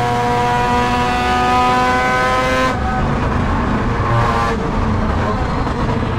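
A Mazda rotary-engine prototype race car howls on track, a loud, harmonic-rich engine note holding high then shifting into rougher roar as it accelerates, close and overwhelming.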